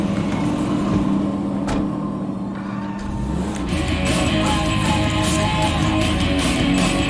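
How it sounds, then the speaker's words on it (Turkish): A car engine in GTA 5 revs steadily and loudly throughout, with a continuous mechanical drone and no talking. "arabamı dinleyin"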